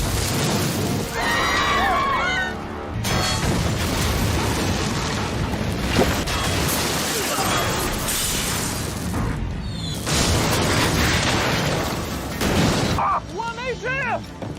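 Mortar bombs and gunfire in a film ambush on a military convoy carrying civilians, heard as heavy booms and bursts of shots spread through the clip, mixed with loud dramatic score and voices.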